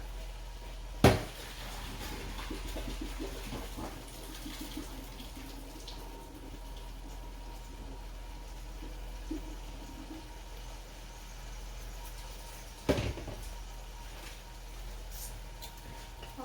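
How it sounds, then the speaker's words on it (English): A steady wash of pasta water pouring from a pot and rushing through a strainer, with a couple of sharp metallic clanks near the start and end. "Grab my pot of pasta, grab my strainer, stick it on there, and let's pour this water out."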